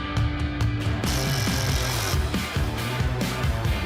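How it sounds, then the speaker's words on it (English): A tool loosens a nut on the positive battery terminal of a Jeep Wrangler. Quick rapid ratcheting clicks lead into a buzzing mechanical whir, heard close and loud. "we will be removing this nut right here"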